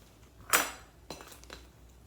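Measuring cup of flour for blueberry scones shaken and tapped into a bowl: one sharp clinking tap, then a few softer knocks and rustles, close and fairly quiet.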